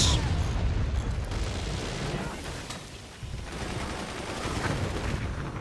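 Gunner weapons firing in the naval battle game Forts High Seas: dense, continuous rumbling volleys of gunfire and explosions, loud and sustained throughout, with a brief dip partway.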